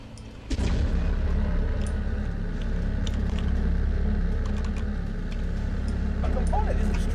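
Heavy ship guns booming in the space fleet battle game Nebulous Fleet Command, a dense, continuous rumbling barrage of distant firing that runs steadily after a sudden onset.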